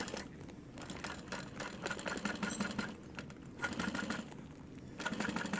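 A sewing machine stitches a clear vinyl sling at a quarter-inch seam, producing a fairly quiet, rapid rhythmic clatter in short bursts with brief pauses between runs.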